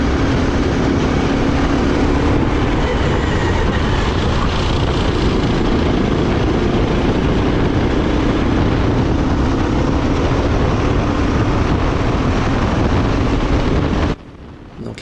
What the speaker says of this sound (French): mon moteur est tellement puissant que je me retrouve scotché derrière lui